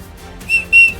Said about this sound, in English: There's something in this, but it's a whistle.